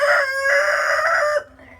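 A sick chicken letting out one loud, close, sustained crowing call, ending abruptly in a short lower cluck.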